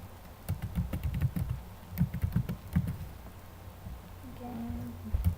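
A password is typed on a computer keyboard in quick bursts of close, crisp key clicks with short pauses between, followed by a quieter stretch.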